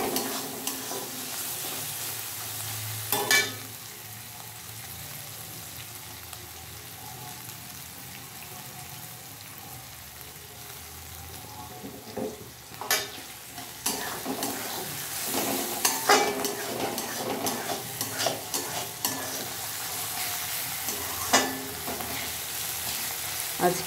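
Onion with ginger paste sizzles and fries in a pan during home Bengali cooking, with a quiet, steady hiss broken by sharp scraping clicks and clatters of a spoon stirring, growing busier toward the end.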